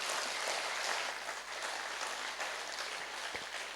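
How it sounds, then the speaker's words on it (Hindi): A crowd at a cultural evening of dance drama claps, a dense, steady wash of applause that holds evenly for a few seconds without voices over it. "अपने लिए जोरदार ताली बजाएंगे।"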